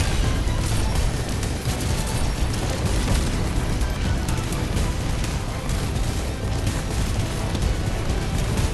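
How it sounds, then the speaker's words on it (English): Dense, continuous barrage of explosions from spammed bombs in the video game Arknights, a loud unbroken roar of booms and bursts with no pauses. "Spam bombs then."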